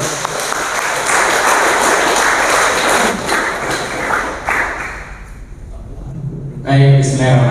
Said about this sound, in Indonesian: Itu berikan aplaus buat beliau.